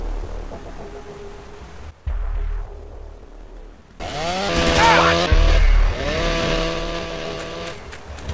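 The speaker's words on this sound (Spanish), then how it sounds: "ha escuchado el sonido de la motosierra en el lugar" Chainsaw revving inside the Panopticon forest area of the video game GTA San Andreas, a harsh buzzing engine that surges loud after a quieter stretch, with shifting whining tones and a brief gap, heard mostly on its own.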